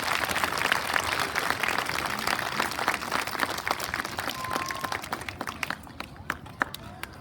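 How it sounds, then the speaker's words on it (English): A school audience at an elementary school Veteran's Day celebration breaks into applause, dense crowd clapping that holds steady and then thins out and fades toward the end. "Let's give him a big round of applause and wave those flags proudly."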